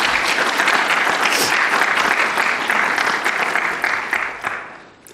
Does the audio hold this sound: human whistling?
no